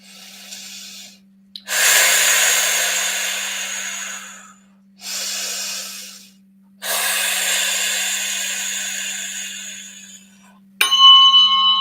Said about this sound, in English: Let's stop and take a deep breath before we continue.